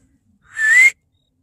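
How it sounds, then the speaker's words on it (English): A single short, shrill whistle blown as a warning signal, rising slightly in pitch and heard close and loud against silence. "so whistle warning"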